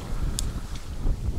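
Gusty wind buffets the microphone on a reservoir during a spring float-fishing trip, a low rumbling roar with faint lapping water and a couple of brief higher clicks.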